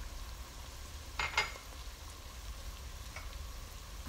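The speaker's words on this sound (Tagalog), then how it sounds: "Haluin lang po natin." Taro leaves being stirred in a pan for ginataang laing, with a soft steady sizzle, a brief cluster of scraping utensil strokes near the middle and another faint scrape later.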